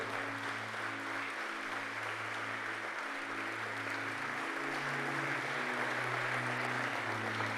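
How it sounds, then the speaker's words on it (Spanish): A church congregation at a Thursday evening worship service applauds steadily and loudly for several seconds, a dense wash of many hands with sustained musical tones underneath. "Dale un fuerte aplauso al Señor, entonces."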